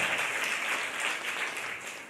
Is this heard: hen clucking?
no